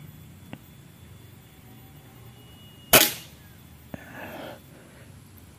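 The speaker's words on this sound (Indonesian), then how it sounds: "kita tembak di sini" A single sharp shot rings out at a target 10 meters away on a shooting range, a loud crack with a brief decaying tail, followed by a faint thud about a second later amid quiet background.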